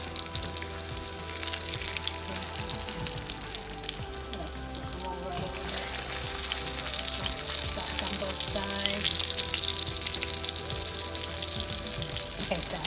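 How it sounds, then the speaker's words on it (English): Chicken cutlets frying in oil and butter in a pan, a steady close crackling sizzle that keeps going throughout. "You can always add a little more butter as you go along. And they fry up pretty quickly."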